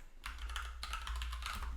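Keys clatter on a Mac keyboard in quick bursts during shortcut typing, with close, moderately quiet clicks and no talking.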